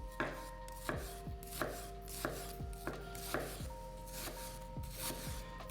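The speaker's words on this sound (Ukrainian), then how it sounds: "Наріжемо нашу цибульку, як я вже казав." A knife chops onion on a cutting board in regular, fairly close strokes, about one every half second, with a steady background hum and no talking.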